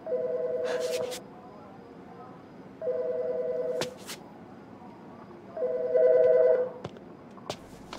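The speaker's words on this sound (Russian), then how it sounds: "Наверное, опять копы звонят." A telephone rings in the video game As Dusk Falls, sounding in three separate electronic bursts spaced a couple of seconds apart over quiet room ambience.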